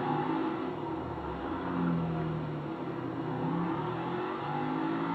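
A car engine revs and hums steadily while driving in the video game Grand Theft Auto V, its pitch rising and falling slightly as the throttle shifts, loud and continuous with no talking.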